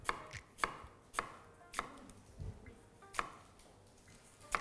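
An onion is chopped on a board for curry gravy, with about eight crisp knife strikes landing at an uneven, unhurried rhythm, close and clear against a quiet kitchen.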